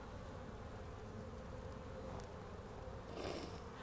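Honeybees during a spring hive inspection, with many drones on the comb, give a steady, dense buzz that holds throughout, swelling slightly near the end, with no talk over it.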